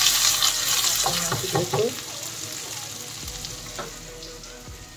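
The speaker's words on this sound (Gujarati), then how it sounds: "લસણ થોડું તતડાઈ જાય એટલે આપણે આમાં આદું નાખી દઈશું" Garlic and grated ginger paste sizzle steadily in hot frying oil, a bright, continuous hiss, close by, with a person talking briefly over it and a few stirring scrapes.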